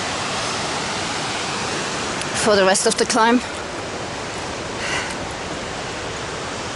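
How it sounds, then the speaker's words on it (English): Mountain creek on a long-distance trail near Russell Creek, a steady broadband rush of flowing water filling the whole clip at close range, with a voice speaking briefly over it midway. "This is the first major creek we've done since I fell."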